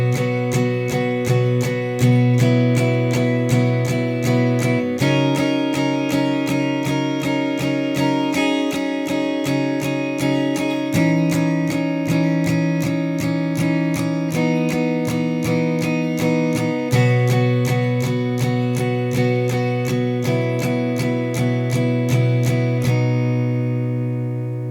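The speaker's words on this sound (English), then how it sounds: "if you're a little bit more advanced and you want to play the whole thing on one guitar, you can sort of do a Chord-Melody version" A single guitar plays a chord-melody arrangement of a song, with steady strummed chords carrying the tune throughout and sounding close and continuous.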